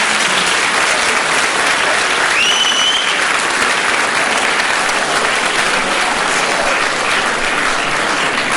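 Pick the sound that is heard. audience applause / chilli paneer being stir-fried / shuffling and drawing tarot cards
audience applause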